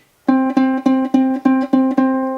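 A ukulele's second string plucked seven times in a steady rhythm, each note ringing briefly before the next, close and clear.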